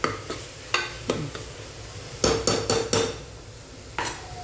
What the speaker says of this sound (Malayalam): അപ്പോൾ നമ്മളൊന്ന് ഇളക്കി കൊടുക്കണം